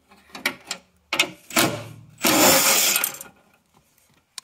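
Bolts backed out of the metal frame around a 2017+ Toyota Prius Gen4 hybrid battery cell with a ratcheting tool: several short clicking bursts followed by a longer rasping spin, close up with no voices.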